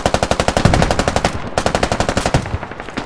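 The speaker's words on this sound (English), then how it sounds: "Please, machine gun on the left." Machine gun fire in the video game Squad: two loud, close bursts of rapid, evenly spaced shots with a brief pause between them and no talk.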